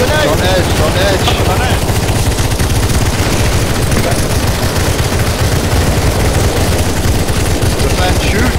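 Dense, continuous automatic gunfire from many players defending in CS:GO zombie escape on a tower map, loud and relentless throughout with voices talking over the barrage.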